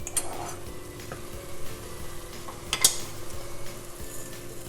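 Rice stirred into browning meat in a frying pan for risotto, with steady low sizzling, soft scraping stirs and an occasional utensil clink against the pan.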